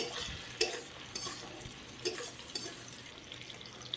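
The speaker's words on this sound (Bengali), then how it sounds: "দিয়ে দেবো টমেটোটা, দিয়ে দেবো চেরা দুটো কাঁচা লঙ্কা" Tomato and slit green chillies added to lightly fried onions in a pan for a spicy prawn curry, giving a low steady sizzle with a few soft stirring knocks, close by and without talk.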